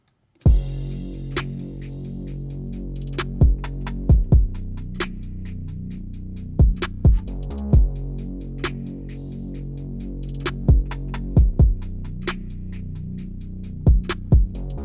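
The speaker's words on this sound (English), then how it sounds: "So then if we put all the drums together, this is what we get." A full programmed drum beat from a studio production plays steadily, with punchy kicks and snappy hits recurring in a looping pattern over a sustained low tone, loud and alone with no talk.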